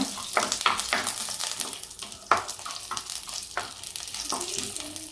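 Ingredients frying in a pan make a soft continuous sizzle, punctuated by several sharp spatula strokes against the pan, one notably louder near the middle, heard up close and alone.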